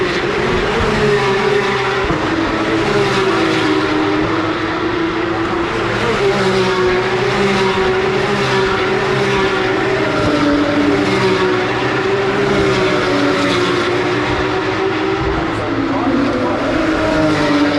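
V8 Supercars race car heard on board during a race, its engine roaring loudly and continuously with rising and falling revs through gear changes, a commentator talking over it.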